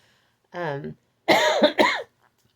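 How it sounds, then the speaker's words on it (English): A person close to the microphone makes a short throat sound, then coughs twice in quick succession, with sharp, harsh bursts against a quiet room. "Sorry for the cough."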